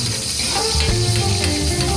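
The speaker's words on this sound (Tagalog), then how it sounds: "Lagay na natin ang ating kawali, lagay ang mantika, lagyan natin ng bawang." Garlic sizzling in hot cooking oil in a wok-style pan, a steady close crackling hiss with small bursts and stirring scrapes throughout, no voices.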